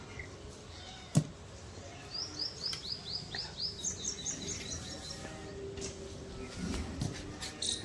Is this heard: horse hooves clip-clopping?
no